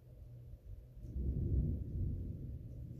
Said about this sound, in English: Listen to the thunder cracking outside.